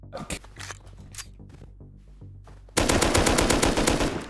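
Rapid automatic gunfire from the survival video game Rust bursts in loud and sustained after a quieter stretch of scattered in-game sounds and shots, the repeated cracks running dense and continuous to the end.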